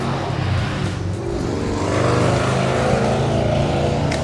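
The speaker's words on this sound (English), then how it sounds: "Gotta love motorcycles." A motorcycle engine roars past nearby outdoors, a loud sustained drone with rising intensity and no talking.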